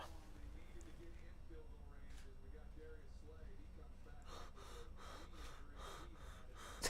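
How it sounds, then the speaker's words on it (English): A person pants and breathes heavily close to the microphone during a livestream of an NFL wild card game, with rhythmic breath bursts growing stronger toward the end over a low background hum. "Why are you panting?"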